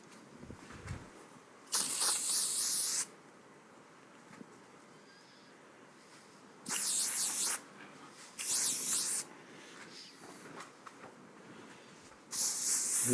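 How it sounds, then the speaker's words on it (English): Hairspray misted from an aerosol can during hair styling, four loud, sharp hissing bursts of roughly one second each, separated by quieter pauses with faint handling sounds. "Let me just get some spray."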